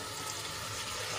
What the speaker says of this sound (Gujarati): તો હવે એમાં આપણે પાણી એડ કરીશું.